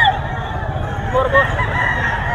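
A fighting cock, an 11-month-old stag, crows once close by in a loud, drawn-out call over steady background noise and crowd murmur.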